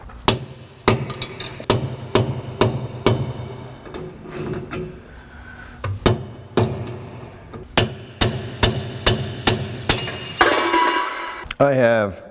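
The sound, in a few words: hammering out bearing race on truck axle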